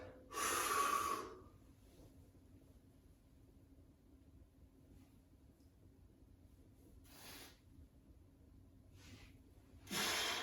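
A weightlifter takes a big breath before a snatch: two loud, close, sharp inhalations at the start and end, with a softer breath in between and quiet room hiss.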